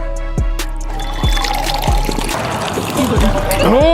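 A drink pours into a glass until it is full, a steady trickle whose pitch rises as the glass fills, with voices talking over it.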